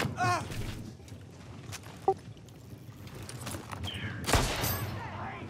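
Gunfire in Far Cry 6 blasting open a locker: a couple of sharp shots and bursts in quiet surroundings, with a loud blast near the end and light footsteps and clatter between them.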